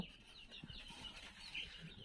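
Backyard laying hens on a small farm give a few soft, faint clucks against a quiet background, with light rustling between calls.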